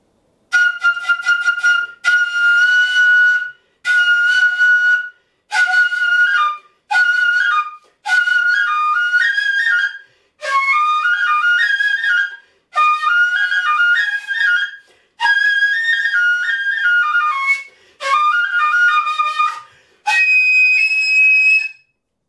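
A Japanese shinobue bamboo flute is blown loudly and brightly, playing a series of sustained and stepping phrases separated by short breaths, close and alone.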